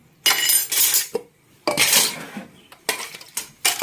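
Dishes and cutlery clatter loudly during washing up, in three bursts of clinking and scraping separated by short pauses, close to the listener with no talking.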